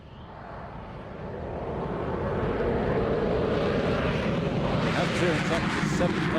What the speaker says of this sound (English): here comes the Eurofighter Typhoon